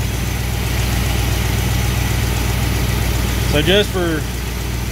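A car engine idles steadily at 20 degrees initial ignition timing, its low, even hum running throughout, with someone talking briefly near the end.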